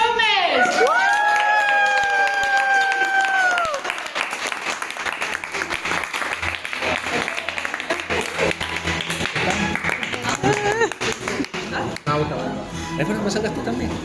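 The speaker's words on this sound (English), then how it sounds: "please be upstanding as you join me in a round of applause for the newly minted Mr." Wedding guests in London applauding the newlyweds Mr. and Mrs. Gomez, with whoops, cheers and shouting over steady clapping, a horn-like tone sounding early and voices mixed throughout.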